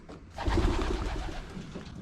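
Soft, low cooing of pigeons murmuring together close by in a loft, a steady rumbling chorus with no talk.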